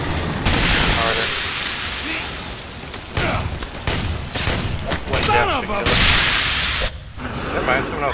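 Explosions and gunfire from the video game Aliens: Colonial Marines, with a turret and an acid explosion, come as repeated loud bursts and booms through a dense firefight, broken by brief pauses, while a player talks over the action.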